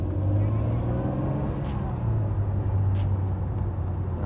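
From inside a Honda NSX mid-engine hybrid sports car with front electric motors, a low, steady engine drone and road rumble hold at an even level while cruising, with voices faintly present.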